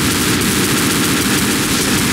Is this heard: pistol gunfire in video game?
yes